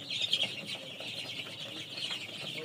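Colour-bred chicks of the RMR company in a brooder, a dense overlapping chorus of high thin chirps and peeps, continuous and fairly near, with no talking.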